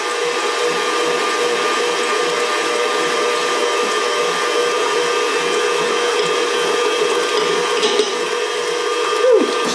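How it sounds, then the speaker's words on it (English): Four eggs being beaten as sugar is slowly added, with a loud, steady motorized whir that runs unbroken and close throughout, without talking. "I'm going to start with the 4 eggs and get those moving around, broken up"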